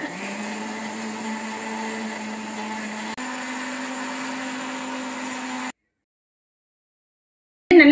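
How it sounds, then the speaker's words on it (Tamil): An electric blender whirs steadily while blending a chocolate milkshake of chocolate syrup and chocolate ice cream, a constant motor drone with a slight pitch shift midway, then it cuts off into silence before a brief final clatter. "நல்லா பிளெண்ட் பண்ணிக்கோங்க"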